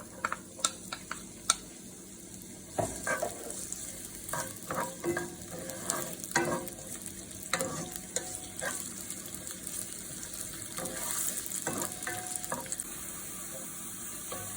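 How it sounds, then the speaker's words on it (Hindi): Onions frying in a pan for mutton brain masala, a continuous soft sizzle with scattered crackles and pops throughout, fairly quiet and without speech. "प्याज हमारे फ्राई हो चुके हैं, ज़्यादा इनको सर्व नहीं करना।"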